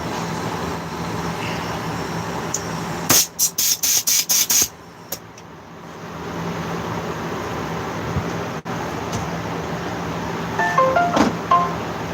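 Compressed air blows out a bolt hole on an Echo leaf blower during muffler removal, a quick series of sharp hissing bursts over faint background hum.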